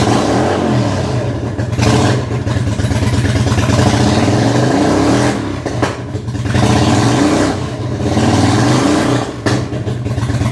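A Honda VL250 bobber engine with its airbox removed and an open 48mm velocity stack, running lean, revs loudly and roughly in repeated bursts that bog and drop back between throttle blips.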